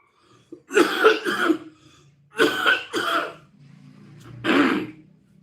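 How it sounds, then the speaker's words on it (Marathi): A person coughs in three harsh, close bursts, the first two fast double coughs and the last a single hack, with quiet breathing between. "खोकल्याचा त्रास जरा आतीच होतोय आज"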